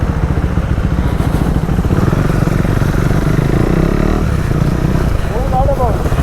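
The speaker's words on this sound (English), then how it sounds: "that RX-100 fellow was revving the bike" A Yamaha RX-100 motorcycle revs loudly nearby on a street, its engine rumbling and rising in pitch, accompanied by the idling drone of another bike and people talking over it.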